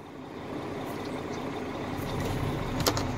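Two Tonar semi-trailer trucks rolling side by side on a road, a distant diesel drone with passing traffic and a brief sharp hiss near the end, fairly faint and steady.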